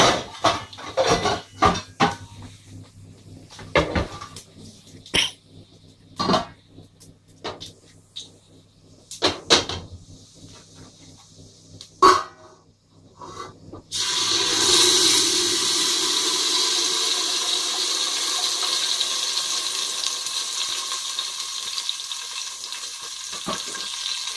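Pots and utensils clink and knock sporadically, then blended tinned tomatoes pour into a pan with cumin seeds, starting a loud, steady sizzle that carries on to the end.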